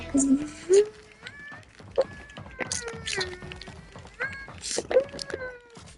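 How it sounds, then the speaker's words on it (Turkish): Several drawn-out cat meows recur, some rising and falling in pitch, mixed with clicks and thumps and a person speaking nearby during a Fortnite session. "kapat o kedi sesini ne öyle."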